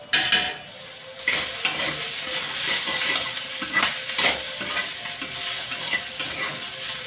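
Sliced bitter gourd fries in a pan on low heat while a utensil stirs it, giving a steady close sizzle broken by scraping, clattering stirring strokes, with no voices.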